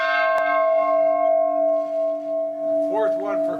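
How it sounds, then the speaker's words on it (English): A bell set up in Ireland to mark a decade of peace in Northern Ireland gives a single strike and then a sustained, humming ring that fades slowly, with a voice speaking over the end of it. "The bell put up to mark a decade of peace in Northern Ireland rung in honour of the 25th anniversary"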